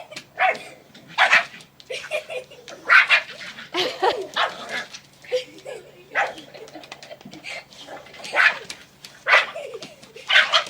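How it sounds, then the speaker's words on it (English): A small puppy and a big dog squabbling over food, with repeated sharp yips, growls and barks in short bursts, fairly close and loud. "There's a little puppy trying to keep the big dog from getting any food at all."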